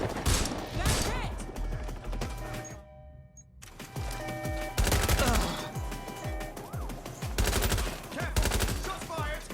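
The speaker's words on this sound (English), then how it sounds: "Shots fired!" Gunfire in the video game Watch Dogs: Legion, with rapid repeated shots in dense bursts, loud and close, broken by a brief pause before heavy firing resumes, with game voices mixed in.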